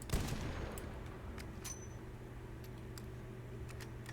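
A new rifle fires at dummies in Fallout 4: a rapid volley of sharp gunshots opens, then scattered crisp shots ring out over a steady mechanical drone, loud and close, with no speech.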